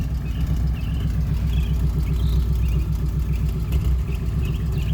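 A car idles through a Tanabe Touring Medallion exhaust, a steady low rumble with a slight edge that holds evenly throughout, close by and alone.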